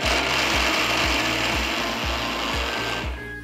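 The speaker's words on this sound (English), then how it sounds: "Cover the mixer jar once again and blitz it all into a fine powder." A kitchen mixer grinder blitzes urad dal, jaggery and cardamom into a fine powder, producing a loud, continuous grinding whir with a steady, rapid pulsing rhythm that fades slightly near the end.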